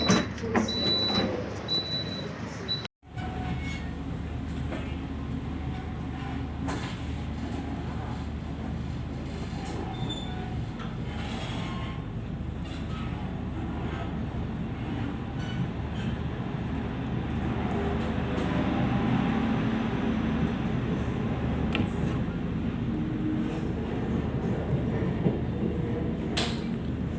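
Inside the Argo Sindoro executive train as it departs Semarang, a steady rumbling roll with faint rattles and occasional thin squeals, a sharp clunk near the start, no voices.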